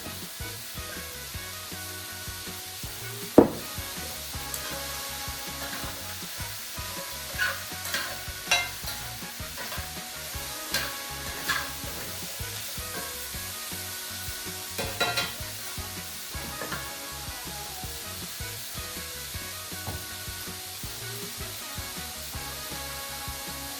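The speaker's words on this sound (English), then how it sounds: "While the vegetables are sauteing and you're stirring them around" Zucchini and mixed vegetables sautéing in olive oil, stirred now and then: a soft, steady sizzle with scraping spoon strokes and a few sharp clacks against the pan, close up and alone.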